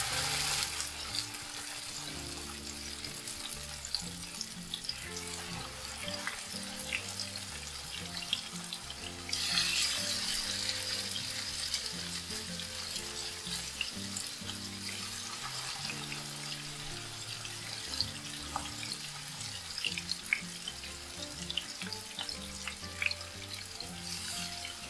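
King fish pieces fry in a hot pan for Malabar biriyani, a loud, continuous hiss and sizzle with crackling pops throughout, close up and with no talking.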